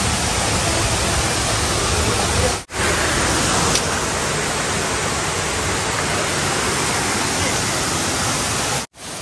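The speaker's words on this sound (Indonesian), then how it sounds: "Penampakan dari bawah air terjun dari dekat" A large waterfall heard from close below gives a loud, dense, unbroken roar that fills the whole stretch, cut by two brief dropouts, with no audible talking.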